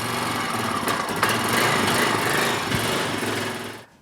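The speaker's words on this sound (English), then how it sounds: "Crank it up just for a few seconds" A Honda Rancher 350 ATV engine runs steadily at idle for a few seconds, loud and close, then cuts off abruptly near the end.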